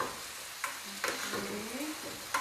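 Chorizo and potatoes stirred in a frying pan, with a few scraping strokes of the utensil over a low, steady sizzle; no one speaks.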